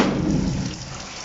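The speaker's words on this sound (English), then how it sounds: "It's totally a hard rain." Heavy rain pours down outdoors in a dense, steady rush, close and loud, easing slightly toward the end.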